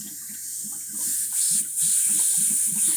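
Water rushing and bubbling steadily through a pool filter circuit as trapped air is purged, a continuous close hiss with faint rhythmic gurgling pulses underneath.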